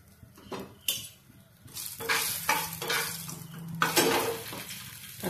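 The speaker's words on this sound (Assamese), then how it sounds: "ইয়াতে অকণমানে তেল দিম, তাতে ইলাচি গুটি কেইটা দি দিম" Cardamom pods frying in a little hot oil for a coconut fish curry, sizzling steadily with repeated spoon clatters and stirring scrapes against the pan.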